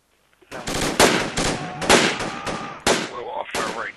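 Close bursts of rifle and machine-gun fire crack in Project Reality v0.95, a rapid irregular string of loud shots with brief gaps and faint radio-like voices between them.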